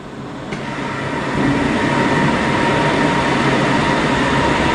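A rotor with inserts spins at high RPM during a source inspection test, producing a loud, steady mechanical roar and whir that builds slightly at first, then holds even throughout without any voices.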